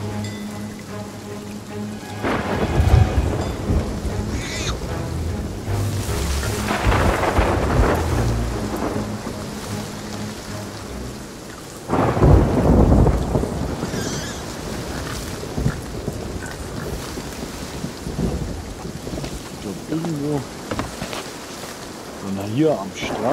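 Heavy rain pours steadily through a storm at sea in the Sea of Thieves pirate game, with loud rolling thunder cracks near the start and again around midway, while people talk over the downpour.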